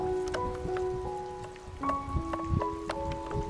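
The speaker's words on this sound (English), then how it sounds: "Little tiny spring bubbling up here." A tiny spring bubbles up from the ground on a Yosemite National Park hiking trail, giving soft, steady trickling and dripping close by, with occasional brief tonal chirps over it and no talking.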